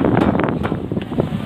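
Strong wind buffets the microphone on the swaying Golden Bridge at Ba Na Hills, Vietnam, a steady loud rush of gusts with no voices.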